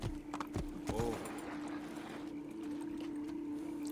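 Horse hooves clip-clop in the Assassin's Creed 2 video game, a few distinct hoof strikes early on, then a softer steady ambience with a background hum.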